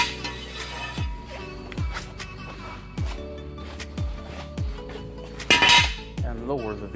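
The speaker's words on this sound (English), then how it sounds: "let's go ahead and remove our jack stand" A metal jack stand under a Mazda CX-9 gives a run of sharp metallic clanks and rattles, several distinct hits spaced about a second apart with ringing tones, close and moderately loud.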